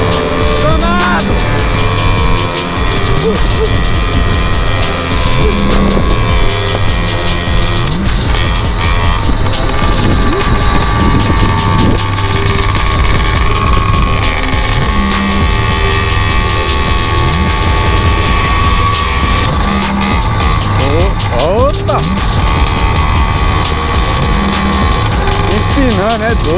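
Walk Machine 210cc motorcycle revving hard while popping a wheelie on a Sunday group ride in Santo André, a loud, steady engine drone throughout with voices and other bikes mixed in.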